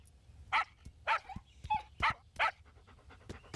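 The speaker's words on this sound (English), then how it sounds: "Oh, you must be Flanders' new dog." A cartoon dog barks and pants up close in a series of five or so short, separate woofs spaced about half a second apart, with soft breathy panting between them.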